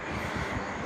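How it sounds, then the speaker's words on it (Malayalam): A ceiling fan whirring in a room, a steady, broad rushing hum filling the whole short moment, close and continuous. "അവിടെ നിന്ന് ഇങ്ങനെ ഫാൻ കറങ്ങുന്ന ശബ്ദം കേൾക്കാം"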